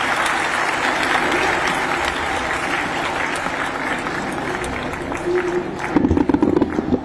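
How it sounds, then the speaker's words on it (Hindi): Loud, continuous applause from a large audience welcoming guests at a Maharani Mahavidyalaya college function, with crowd murmur underneath and louder individual claps toward the end. "एक बार हम सभी पुनः जोरदार तालियों से अतिथियों का स्वागत करते हैं।"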